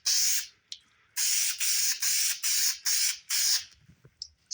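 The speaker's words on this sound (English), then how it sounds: "you want to use a foam and fabric spray. It'll spray like a spider web, not like an aerosol paint" A can of foam and fabric adhesive spray, used while installing 1980s G-body seat covers, hisses close by in about seven rhythmic bursts with short gaps, followed by faint handling noise.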